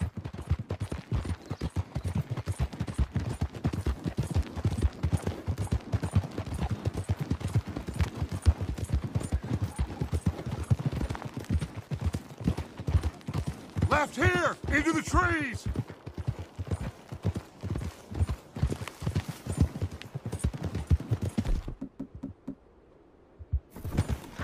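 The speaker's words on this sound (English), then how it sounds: "We won't get the horses down this path" Horses gallop along a wooded trail in Red Dead Redemption II, a dense rapid drumming of hooves throughout with intermittent gunfire, a man calling out briefly mid-ride, and the hoofbeats fading near the end.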